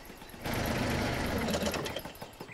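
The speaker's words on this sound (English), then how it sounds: "I couldn't hear you with the engine on" An engine starts abruptly in an animated children's scene and keeps up a steady, buzzing mechanical whir at moderate loudness, easing off slightly near the end.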